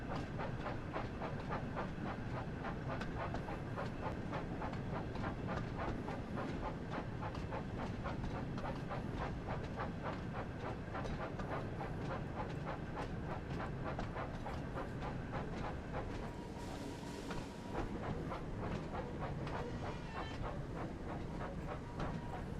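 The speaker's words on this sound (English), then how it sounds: "I'm still gonna pull into the station nice and slow like." A train in the Thomas & Friends: Wonders of Sodor video game pulls slowly into a station, a steady chugging rhythm with regular clicks and a constant mechanical hum, continuous and fairly loud with no talking.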